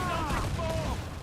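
A pirate ship's broadside cannons in Assassin's Creed IV Black Flag rumble in a dense, continuous roar, with crew voices shouting over it.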